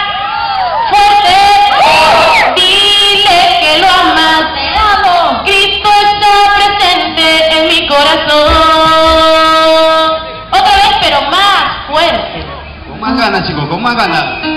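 A large crowd of young voices at the 2018 March for Life parade in Magdalena del Mar, Lima, Peru, shouts loudly in unison in Spanish, a chant rising and falling in sustained waves over echoing background noise.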